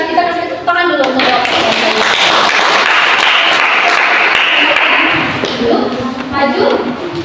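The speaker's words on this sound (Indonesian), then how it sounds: "kita kasih tepuk tangan dulu" Students in a classroom break into loud, steady applause lasting several seconds, with speech heard just before and after the clapping.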